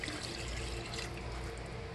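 Water is poured steadily over rice for cooking, making a continuous close splashing rush with no pauses, alone and fairly soft.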